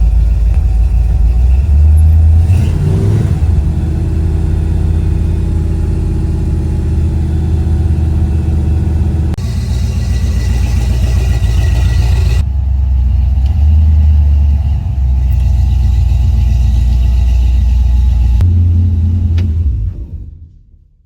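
A classic car with carburetor float bowl trouble, engine still cold, rumbles loudly up close and revs in surges, its deep drone shifting through several steps before cutting off abruptly at the end.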